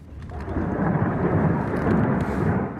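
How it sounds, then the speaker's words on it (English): Grad multiple rocket launchers firing volleys during fighting near Soledar in the Donbass, a continuous deep rumbling roar that sustains loud and steady throughout, heard alone without voices. "The sound is the Ukrainians responding with volleys of Grad rockets"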